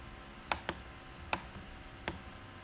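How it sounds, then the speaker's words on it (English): Faint, sparse keystrokes on a computer keyboard, four or five light clicks with uneven gaps between them, over a steady room hiss and no talking. "This is a little bit hard to write with this on my keyboard."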